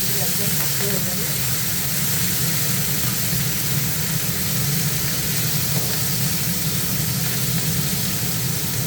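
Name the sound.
bata fish frying in a pan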